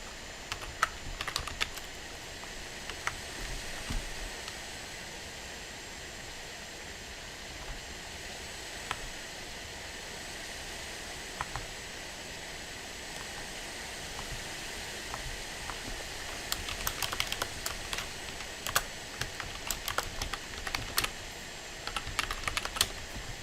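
Keyboard typing heard up close at a computer, with quiet scattered keystrokes and denser bursts of rapid clicking toward the middle and end over a faint steady hiss.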